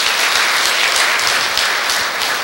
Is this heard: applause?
yes